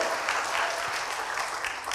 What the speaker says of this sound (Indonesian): Tepuk tangan dulu yang meriah buat Tuhan, Saudara-saudara